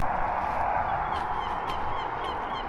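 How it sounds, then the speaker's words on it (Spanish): Seagulls call in the Arctic under the midnight sun, a dense, continuous chorus of honking cries at moderate volume, several birds overlapping against steady background noise. "se escuchan las gaviotas súper activas también"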